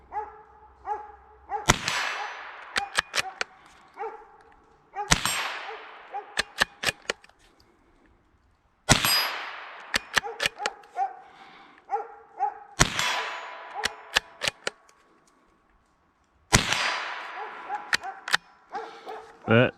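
Ruger American rifle shooting five standard velocity rounds at steel outdoors: loud cracking shots roughly every four seconds, each with a ringing impact and decay, separated by bolt-action clicks and handling rattle.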